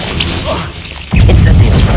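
Bombarda blasting spell in Hogwarts Legacy, a sudden loud booming impact about halfway through, following quieter game ambience, with the blast's rumble sustained to the end.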